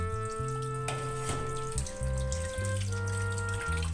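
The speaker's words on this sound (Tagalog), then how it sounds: "huwag natin kakalimutan na hugasan para na malinis ang ating pork" Pork being rinsed under a running kitchen faucet: steady splashing water in a sink, close and continuous, with faint clinks alongside.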